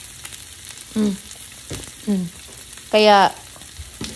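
Onion and garlic fry in a pan for ampalaya with egg, a soft continuous sizzle close by, broken by short bursts of a voice speaking over it.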